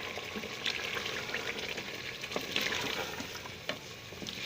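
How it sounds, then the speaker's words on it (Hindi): Potatoes frying in a spice masala for aloo moongre sabzi, a continuous close sizzle with scraping spoon strokes stirring the pan, no voices. "अब हम इसके अंदर अपने आलू डालेंगे और आलूओं को 5 मिनट तक भूनेंगे"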